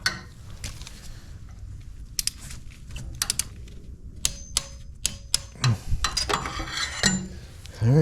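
A torque wrench tightens the last spark plug on a 2015 GMC Sierra with a 5.3L engine, giving sharp ratcheting clicks in short irregular bursts, close and fairly crisp, among light metallic handling noises.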